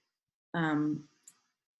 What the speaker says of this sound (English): I'm gonna click on this